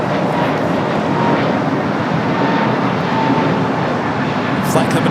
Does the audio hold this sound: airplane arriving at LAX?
yes